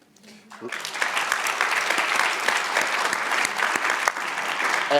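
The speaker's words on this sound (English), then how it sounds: "And that round of applause is not enough" Audience applause at a community event, a dense steady clapping that rises after a brief quiet start and continues loudly throughout, with no one speaking over it.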